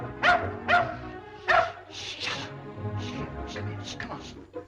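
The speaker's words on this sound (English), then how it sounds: "What does that barking mean?" A dog barks three times in quick succession up close, then whimpers and yips more softly amid voices talking in the background.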